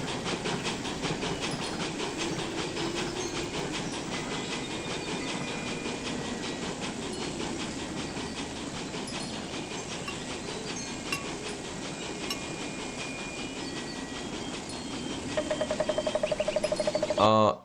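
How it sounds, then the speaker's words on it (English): A train rolling past with a continuous loud rumble and rhythmic clatter of wheels on track, building slightly toward the end as a tonal horn-like note appears, with no talk over it. "Ooh, a train is coming."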